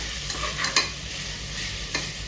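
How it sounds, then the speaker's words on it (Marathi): Onion frying in a pan for palak paneer rice gives a close, continuous hissing sizzle, with a few soft scrapes of a stirring spoon and no voices. "आता हे थोडं आपण फ्राय करून घेऊया कांदा"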